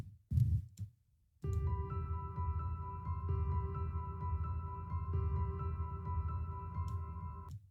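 A sustained synth tone without glitch processing, from a Meladronin synth patch: a steady harmonic drone that enters after a couple of brief thumps and holds evenly at moderate level to the end, with faint high blips.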